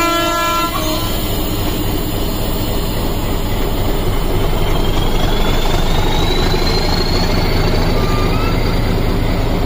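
A Nilgiri Mountain Railway train near Ooty sounds a brief horn at the start, then rolls past with a loud, steady rumble of wheels and carriages.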